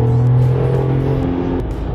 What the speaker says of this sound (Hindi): हल्का सा पंजा मैंने लगाया और गाड़ी ऐसे भाग रही है